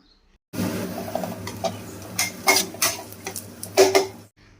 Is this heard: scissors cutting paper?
no